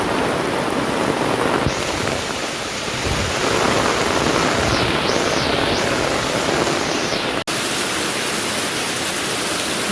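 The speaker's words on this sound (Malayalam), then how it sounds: "നല്ല മഴയാണ് ഗൈസ്." Heavy, steady downpour of evening rain drenching a flooded area, a dense continuous hiss that stays loud and unbroken throughout with no voices.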